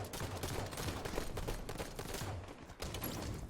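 Gunfire in the Halo 5 video game during a multiplayer match, with rapid bursts of shots packed closely together across the whole moment and a short lull near the end.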